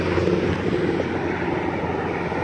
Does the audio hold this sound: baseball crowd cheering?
no